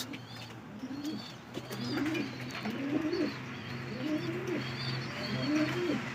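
Pigeons coo repeatedly in a loft, low rolling calls recurring roughly every second over a faint hum, close and clear with no talk.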